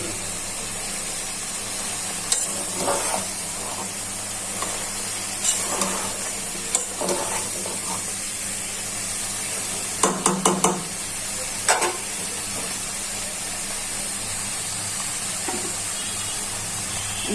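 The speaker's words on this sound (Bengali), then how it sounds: "এখন তরকারিগুলো দিয়ে দিচ্ছি।" Vegetables, including ridge gourd with small catfish, fry in hot spiced oil with a constant loud sizzle and hiss, while a spoon stirs and scrapes the pan in occasional clattering bursts, all close up.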